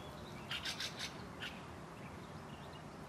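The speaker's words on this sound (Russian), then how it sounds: "Опять сойка или сорока поет." A jay or magpie calls outdoors in a garden, a quick run of four or five harsh chirps followed by one more, moderately distant over a faint background hum.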